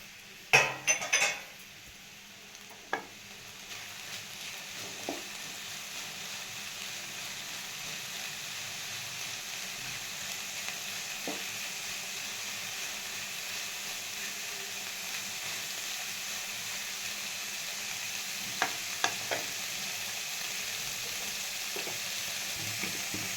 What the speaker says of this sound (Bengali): তাই সামান্য একটু তেল দিয়ে পনিরটা ভেজে নেব মাঝখানে